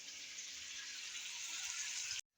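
Water pours steadily into a cooking pot of rice and mutton stock for yakhni pulao, a continuous moderately loud hiss that stops abruptly near the end.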